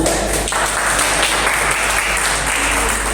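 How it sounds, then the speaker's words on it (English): A crowd at a school inter-house quiz contest gives a round of applause, with continuous, even clapping throughout the short stretch. "A round of applause for them."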